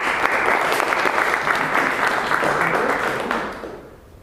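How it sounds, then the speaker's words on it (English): A Toastmasters public speaking meeting audience gives a full round of applause, many hands clapping steadily and loudly before tapering off and stopping near the end. "Please, round of applause."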